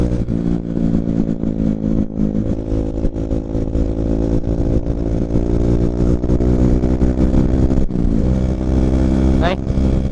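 Kawasaki KLX 140 dirt bike engine runs steadily under a rider, a loud, close mid-pitched drone with harmonic buzz, brief rises and dips in revs near a river crossing.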